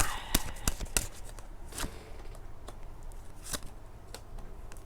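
A deck of Romance Angel oracle cards shuffled by hand at close range, a run of crisp riffling snaps and slaps in quick irregular bursts over a quiet room.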